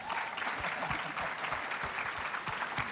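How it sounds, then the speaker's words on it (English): Audience applause at a talk, a steady, dense wash of many hands clapping that fills the whole stretch at an even, fairly close level. "You better clap."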